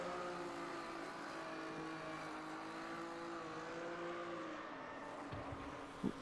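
An Opala 86 stock car in a classic stock car racing game at Interlagos, its engine droning steadily with a sustained tone that sags briefly during a failed burnout, close and loud, with no talking.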